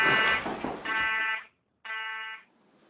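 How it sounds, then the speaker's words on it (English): A loud electronic fire alarm sounds in repeated bursts, with a short gap of silence between pulses; some clattering noise underneath at the start. "Tom, what's that noise? Is that the fire alarm?"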